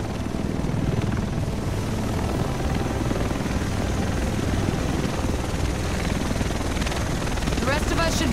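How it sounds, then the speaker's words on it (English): Helicopter arriving in The Division video game, a dense, continuous rotor roar with steady chop filling the scene, loud and close throughout. "The rest of us should be in this chopper."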